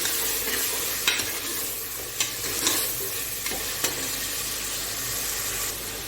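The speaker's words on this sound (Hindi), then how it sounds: "अब मैं इसमें तकरीबन 1 पकाने का चम्मच ऑयल डालूंगी और इसको अच्छी तरह भूनूंगी।" Cooking oil sizzles softly in a pan during a karela gosht preparation, with a few sharp spoon scrapes and taps as the mixture is stirred and fried, quiet and steady with no speech.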